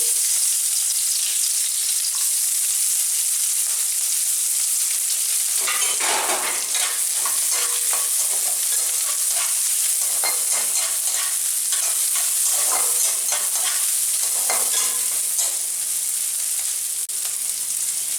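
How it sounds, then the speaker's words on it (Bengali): Finely chopped onion sizzles in hot oil for a home-made fish roe fry, with a loud burst of spitting crackle partway through, then a sustained bright hiss broken by stirring scrapes and spatters. "তেলটা গরম হয়ে গেছে, আমি এবার পেঁয়াজ কুচি দিয়ে দিচ্ছি।"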